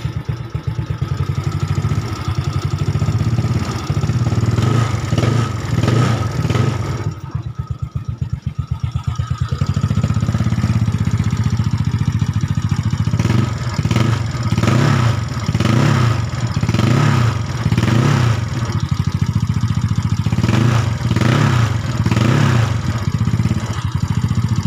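A Yamaha Nouvo scooter engine, fitted with a stock trigger and a replaced RRA, starts up and runs with a steady clattering idle, then revs in repeated throttle blips, loud and close, with no talk.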